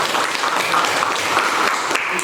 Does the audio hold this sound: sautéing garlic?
no